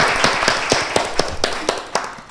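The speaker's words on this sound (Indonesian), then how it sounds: "aku mau ngajak tepuk tangan dulu nih untuk apresiasi teman kita yang luar biasa banget" Podcast hosts clap for their guest, about ten sharp claps in a steady, moderately paced rhythm, close and fairly loud with no talk over them.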